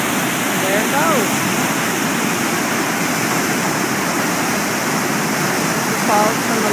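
Large waterfall rushing loudly and continuously, a dense steady roar of falling water close by with faint bird chirps over it.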